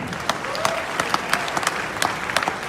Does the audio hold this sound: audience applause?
yes